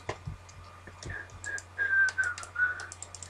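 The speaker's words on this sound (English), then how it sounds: "I'm terrible at whistling." A person whistles a short, wavering tune, faint at first and then louder, over a quiet background with a few clicks and taps.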